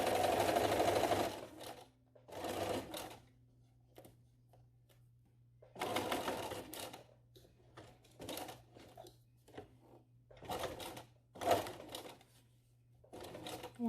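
A sewing machine runs a straight stitch on a fabric face mask in short bursts separated by pauses, close and fairly quiet, with a faint steady hum underneath.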